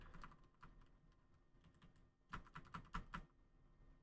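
Computer keyboard keystrokes from a hotkey-equipped editing setup: a few scattered taps, then a quick burst of four or five crisp clicks close to the microphone, quiet overall.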